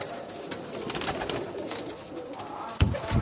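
Sialkoti pigeons coo softly on a rooftop loft, low repeated murmuring calls amid rustling and light flutters, with a sharp thump near the end.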